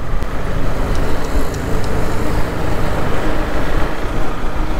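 A 2020 KTM Duke 390 BS6 motorcycle engine hums steadily amid road and traffic noise in Pune, with a constant low rumble and no clear rev changes.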